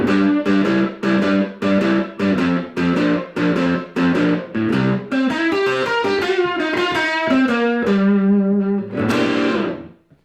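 Distorted electric guitar chugs a rhythmic chord pattern, then plays a quick Texas blues turnaround lick in C, ending on a sustained chord.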